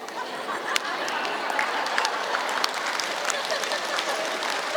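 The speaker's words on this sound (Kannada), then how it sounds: "ನಿಂತವ್ರಿಗೆ ಚಪ್ಪಾಳೆ ಜೋರಾಗಿ" An audience at a district Yoga Day event claps in a dense, steady patter of applause throughout, moderately loud and without a clear break.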